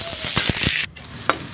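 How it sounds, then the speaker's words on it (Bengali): Onions frying in mustard oil with bay leaf, dried chilli and cumin: a steady hiss of sizzling with a few stirring scrapes and clicks close by. "তারপরে পেঁয়াজ দিলাম, পেঁয়াজটা একেবারে লাল লাল করে ভাজুন।"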